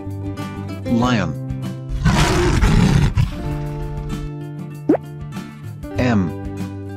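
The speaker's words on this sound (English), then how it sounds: "Lion." A lion roars in one loud, rough burst of about a second, with light background music and a voice speaking briefly before and after.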